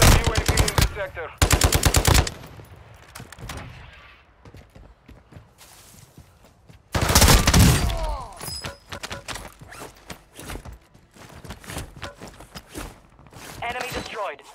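Submachine gun fire in Call of Duty: Modern Warfare II, with rapid automatic bursts starting and stopping in loud clusters, mixed with game voices and effects between volleys.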